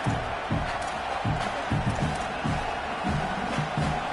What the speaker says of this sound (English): this crowd trying to give its defense some energy in a clutch spot